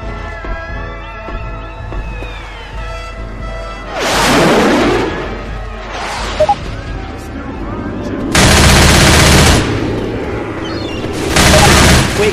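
Gunfire in the zombie shooter game Left 4 Dead 2, with loud bursts of rapid shooting and booming blasts coming in waves over a music and effects bed, with voices heard in places.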